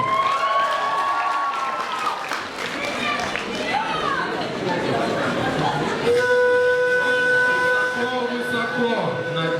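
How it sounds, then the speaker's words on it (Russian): A university freshman-week comedy team performance draws crowd applause mixed with cheering and voices. The sound holds a loud, steady wash throughout, with sustained tonal sounds joining in the latter part. "Аплодисменты."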